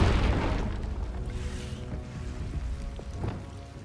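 A Confringo explosive spell blasts in Hogwarts Legacy as a heavy, booming, rumbling burst. It starts loud and close, then rolls and decays over a few seconds, with no talk.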